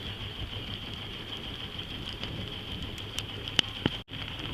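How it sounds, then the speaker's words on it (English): Steady hiss of falling rain aboard a sailboat, moderately loud and even, with a few faint taps and drips standing out near the end. "It's raining."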